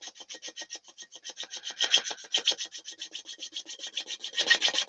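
A winged wooden bowl spins on a lathe while a bevel-rubbing tool makes intermittent hit-and-miss cuts, giving a fast, rhythmic rasping scrape that pulses with each rotation, close and steady.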